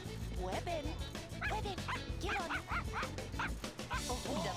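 A dog in The Sims: Unleashed video game yips, whimpers and barks in a quick run of high, bouncing cries, with a person talking over it.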